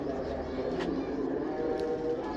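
A prized pigeon coos in soft, low, rolling bursts close by, repeating through the moment with faint background noise.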